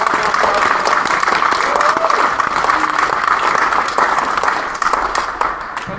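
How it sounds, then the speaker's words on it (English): An audience at a wheelchair rugby championship applauds the players, with dense sustained clapping and crowd noise that runs strong before tapering toward the end, while a voice speaks faintly beneath it. "So let's give a big round of applause to them."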